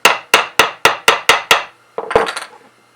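A hammer taps frets into place on a cigar box guitar neck, seven quick, evenly spaced metallic knocks, then a scraping, rattling handling noise, up close with no talk.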